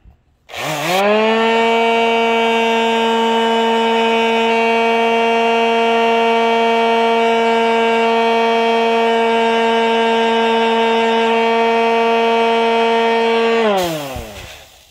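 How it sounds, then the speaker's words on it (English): A small electric sander with worn-out 60 grit paper runs in one steady, loud stretch of motor whine, starting up sharply and winding down near the end, with no talk over it. "this is just a little sander. That's a piece of 60 grit, but it's wore out."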